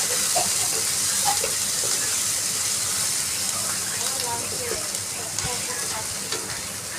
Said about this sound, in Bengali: ওই তেলের মধ্যে পেঁয়াজ কুচি, লঙ্কা কুচি দিয়ে